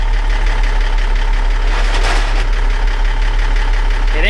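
A truck with no clutch brake grinding its gearbox while the engine idles, a steady loud mechanical rumble with a rising whine near the end, no talking.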